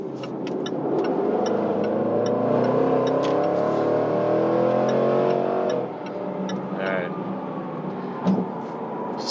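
A Jaguar F-Pace SVR with a 550-horsepower engine growls steadily while driving, heard from inside the cabin at a loud, sustained level, then eases off slightly near the end.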